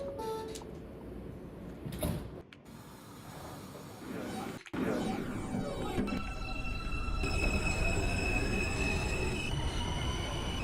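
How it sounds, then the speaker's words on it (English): An R160B subway train in a simulator runs along the track, with wheels squealing on curves, rising motor whine, and a brief door-like slide, continuous and close, while muffled speech sits faintly underneath. "This is a Queens-bound R train via the F line."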